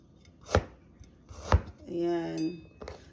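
Two sharp, loud knife chops on a cutting board as ginger is cut for sinigang soup, close by, followed by a brief scraping clatter and a short voice.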